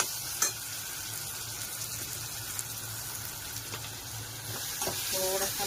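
Tomato cooks for upma in a hot pan, giving a steady, fairly quiet sizzle throughout, with a few soft clicks and a slightly livelier crackle near the end.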